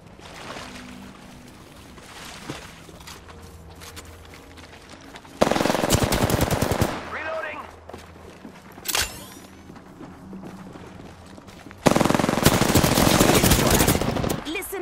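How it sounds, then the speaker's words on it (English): Apex Legends gunfire from a battle royale match: two long bursts of rapid automatic fire, loud and close, with quieter game ambience and scattered shots between them. "Listen up, I'm getting shot at!"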